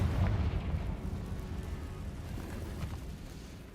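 Confringo blasting spell explosion from the Hogwarts Legacy video game, a deep rumbling boom that opens loud and trails off into a sustained low roar.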